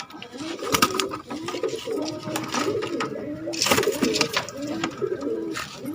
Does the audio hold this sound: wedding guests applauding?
no